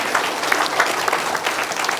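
An audience at a book concert claps steadily and densely, a sustained round of applause that fills the room without pause.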